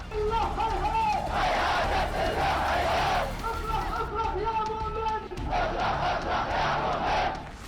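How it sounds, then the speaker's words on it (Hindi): A large crowd packs the streets of Yemen chanting slogans against America and Britain, a loud rhythmic mass of voices in repeated call-like bursts that fill the whole stretch. "यमन की सड़कों पर लोगों की भीड़ उमड़ पड़ी है। अमेरिका ब्रिटेन के खिलाफ नारेबाजी हो रही है।"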